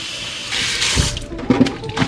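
Tap water runs into a kitchen sink while cauliflower is washed, a steady splashing stream broken by brief clatters and knocks near the end, with no talk.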